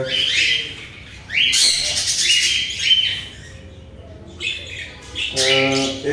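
Caged birds at a bird farm squawk and chirp in bursts, loud and close, with shrill overlapping calls and short quiet gaps between.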